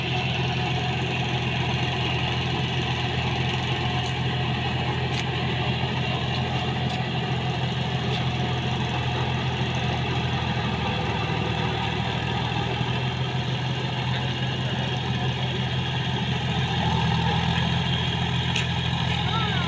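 A John Deere 5050D 4x4 tractor's engine runs at a steady, loud idle-like drone close by, unbroken throughout, with faint voices in the background.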